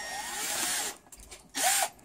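A power drill whirs into a shoe in two bursts, a long high buzzing run that fades, a short quiet gap, then a brief second burst, close and moderately loud.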